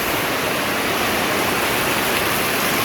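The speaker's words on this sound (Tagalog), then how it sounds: "Ang lakas ng ulan, mahangin." Heavy rain driven by wind in the mountains, a loud, dense, steady roar of downpour with no pauses and no voices.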